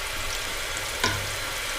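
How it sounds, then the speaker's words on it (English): A steady, close sizzle of onion frying in a pan, with a brief louder hiss midway. "I'm frying the onion anyway"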